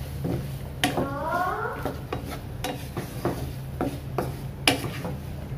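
Potato and okra fry lightly in a pan, with utensil clanks and scrapes against the metal as the pieces are stirred, over a constant low background hum; a short bird-like chirp passes early on.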